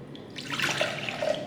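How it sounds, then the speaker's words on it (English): A salt and chicken bouillon brine mixture is poured into a container for turkey wings, a short splashing liquid pour with light trickles and drips, close and fairly quiet. "I'm going to pour my mixture into that, my salt and chicken bouillon mixture in there."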